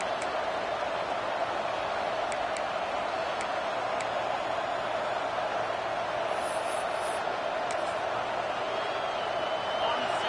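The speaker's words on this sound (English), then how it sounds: "This crowd, full throat, splitting the eardrums" A stadium crowd in the College Football 26 video game roars with a steady, broad wash of noise at a Clemson at Florida game. The sound is constant and distant, and a commentator's voice is faintly present.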